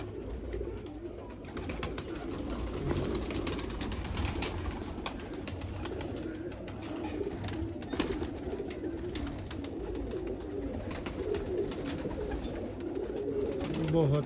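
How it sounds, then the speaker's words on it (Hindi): Teddy pigeons, a rare fancy breed kept by hobbyists, coo softly and repeatedly at a moderate distance, with faint background voices and scattered clatter around them. "टैडी कबूतर।"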